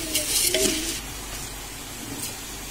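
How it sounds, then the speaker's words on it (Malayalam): Rice frying in ghee with onion and cumin seeds in a pot: a steady close sizzle with a few stirring scrapes near the start, continuous and moderate, with no talking. "ഇതൊന്ന് വറുത്തെടുക്കാം."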